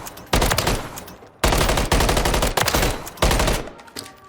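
Several loud, rapid automatic bursts from an MCW rifle fitted with a T4RL Saber compensator in Call of Duty Modern Warfare III, each rattling string of shots separated by brief pauses.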